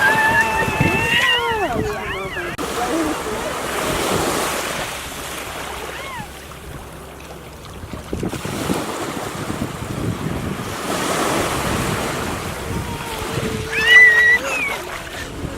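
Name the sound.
ocean waves at the beach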